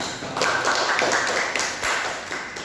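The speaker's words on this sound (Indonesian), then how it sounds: "Tepuk tangan buat kita semua" A class of schoolchildren claps together at the end of a lesson, a brief burst of overlapping hand claps in several uneven waves, close and fairly loud.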